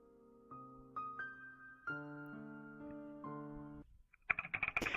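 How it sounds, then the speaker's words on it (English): Automatic text-typing effect in the Higurashi visual novel, a quiet run of soft clicks over sustained game music, followed by a brief, denser burst of clicks at the end. "is the automatic typing"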